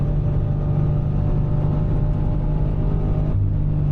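A Subaru BRZ track car's engine holds a steady throttle on a racing circuit, a loud, continuous droning rev with a slight pitch drop near the end, and no voices over it.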